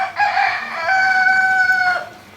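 A rooster crows once, a long, loud and close call with a rising start and a sustained, wavering note that fades at the end, heard alone with no talking.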